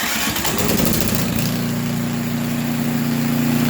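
A snowblower engine cranks over with a rough, uneven start, then settles into a loud, steady idle hum that runs alone for the rest of the clip.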